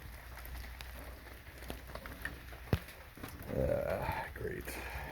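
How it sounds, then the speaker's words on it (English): Heavy pouring rain after a windstorm at a maple sugaring camp in Zionville, North Carolina, a steady broadband patter that runs throughout, with a few sharper knocks and a brief rise of nearby handling noise. "and it's been pouring rain ever since."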